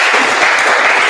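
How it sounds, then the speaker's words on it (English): Loud, close burst of audience applause for election candidates at a community board event, a dense continuous wash of clapping. "please give a big round of applause to our candidates today"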